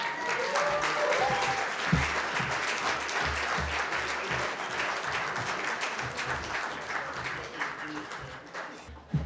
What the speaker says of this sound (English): let's give her another round of applause here.